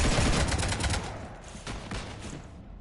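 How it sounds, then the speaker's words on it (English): Dense rattling gunfire striking a ship in Mass Effect, loud and sustained at first, then thinning into scattered impacts as it fades. "You want to stop shooting up my ship?"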